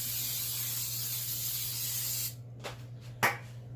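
Steady, close hiss of cooking spray on phyllo dough for about two seconds, followed by a few short, quick spritzes with brief pauses between them.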